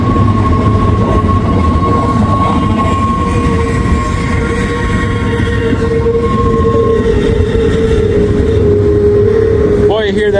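A train rumbles steadily past with a thin, sustained metallic squeal of wheels on rails running over the roar, loud and close throughout.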